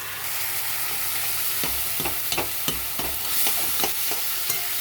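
Two fish heads frying in a hot pan with potatoes: a steady close sizzle broken by a run of sharp scraping stirs and spatula knocks, no voices.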